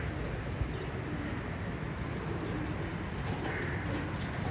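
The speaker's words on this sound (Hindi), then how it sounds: "इनके बड़े कबूतर भी हैं।" Pigeons kept by a fancier coo softly in their loft, low murmuring calls over a constant background hiss, with some faint higher chirps toward the end and no speech.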